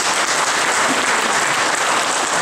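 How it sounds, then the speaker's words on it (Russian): A packed hall at a citizens' assembly applauds war veterans during an awards gathering, a loud, even, continuous roar of clapping throughout. "Давайте поприветствуем их аплодисментами."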